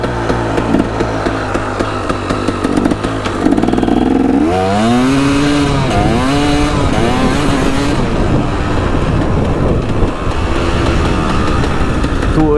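A motorcycle rides hard around a dirt flat track, its engine loud and close, revving and rising in pitch through gear changes, with sweeping up-and-down pitch glides as the throttle opens and closes.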